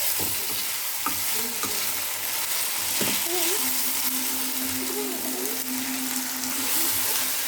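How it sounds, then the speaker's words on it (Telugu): Potatoes stirred in a hot pan, a steady sizzle of frying under scraping spoon strokes, with a few soft thuds and a voice murmuring over part of it. "పొటాటోస్ అందులో మూకుల్లో వేసేసుకున్న తర్వాత బాగా మిక్స్ చేసుకోవాలి."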